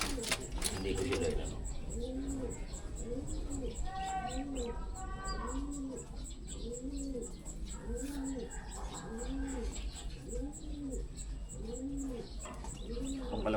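Pigeons cooing in a loft of racing flyers, a steady repeating series of soft throaty coos close by, with faint chirps and someone talking in between.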